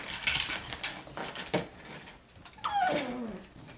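An adult cavapoo dog gives a short warning sound toward puppies, with brief whimpering and yipping noises and a rising whine near the end, close and moderately loud amid general household bustle.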